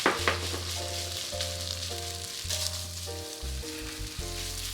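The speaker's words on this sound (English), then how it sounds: "Stir the rice until the ketchup sauce is evenly distributed." Rice with ketchup sauce and oyster sauce is stir-fried in a pan for Japanese-style omelet rice, a soft steady sizzle with light stirring, partly covered by background music with sustained tones.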